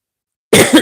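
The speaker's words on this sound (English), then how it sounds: "Sorry for the cough." A single loud cough bursts out after a moment of silence, close to the microphone, with a rough, throaty second push at the end.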